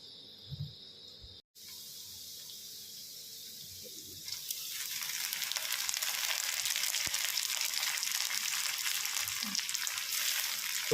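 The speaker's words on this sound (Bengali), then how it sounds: "বিনস গাজরটা আগে থেকে একটু ভাজা ভাজা হয়ে গেছে" Beans and carrots fry in a pan for fried rice in a home cloud kitchen. A faint scrape comes first, then a loud, steady sizzling hiss swells in and holds, with occasional stirring knocks and no voices.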